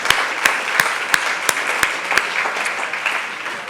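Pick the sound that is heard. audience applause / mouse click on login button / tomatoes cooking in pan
audience applause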